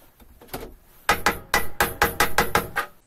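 A hammer drives a file into a hole coated with two-part glue, heard first as a few light taps and then as a series of about eight sharp, close, evenly spaced blows.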